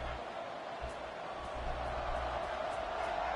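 A football stadium crowd at a UTSA versus Arkansas State college game during a kickoff makes a steady, diffuse roar, faint and distant, swelling slightly toward the end.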